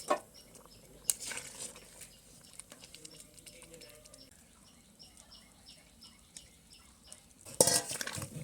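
Papaya pieces are stirred in a cooking pot for a Bengali mutton curry, giving scattered metallic clinks and scrapes with sharper knocks at the start and near the end, and a faint voice in the background.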